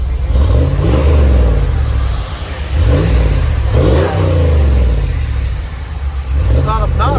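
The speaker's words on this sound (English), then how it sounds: "It's got a deep rumble, deeper than the original." A 2020 RAM 1500 with the 5.7L HEMI and a Dynomax Turbo muffler rumbles deeply through its exhaust, revving up and settling back repeatedly in loud, close swells with a low, throaty tone.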